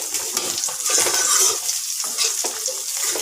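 Taro frying in a pan, a steady hiss with light stirring and scraping noises, close by and without speech.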